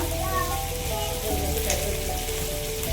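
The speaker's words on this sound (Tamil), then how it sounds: "நல்லா வதங்குதுங்க" Dried red chillies sauté in oil for a fish kulambu, giving a loud, dense, steady sizzle close to the pan, with a low hum and faint tones running underneath.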